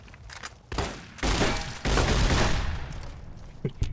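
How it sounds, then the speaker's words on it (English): A riot shotgun in Fallout: New Vegas fires three heavy blasts, each a booming report with a lingering tail. Faint clicks and handling sounds come before and after the shots. "The riot shotgun should be good, right?"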